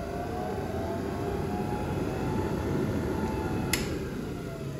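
A dome-type lab centrifuge on rubber feet hums steadily right after being switched on, a continuous low whirring drone with a faint electrical whine and one brief click near the end.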